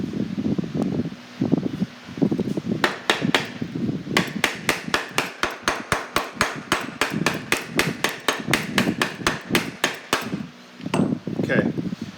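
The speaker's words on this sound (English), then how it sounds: "I'm going to go ahead and hammer this area." A hammer strikes the toe area of a shoe on a last during toe stiffener prep, first in a few scattered taps and then in a long, steady run of sharp, close blows before slowing again.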